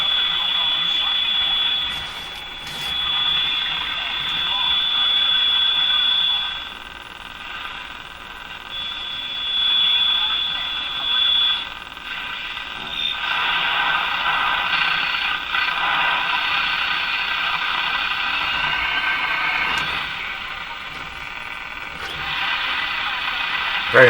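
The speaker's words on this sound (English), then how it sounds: "Very hard to pick these stations out among the noise here." Hiss and crackling static rise and fall as a Mohawk Model 1240 five-tube radio is tuned, with faint stations barely emerging from the noise and a few sharp clicks along the way.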